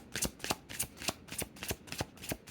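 Romance Angel Oracle cards being shuffled by hand, a crisp riffling flutter repeating in a steady rhythm of about eight quick bursts, close and clear with no talking.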